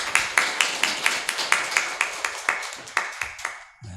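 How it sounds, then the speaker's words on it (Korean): Congregation clapping during a Sunday church service, a steady rhythmic beat of loud unison claps roughly twice per second that stops near the end. "우리 하나님께 영광의 박수 올려드리겠습니다."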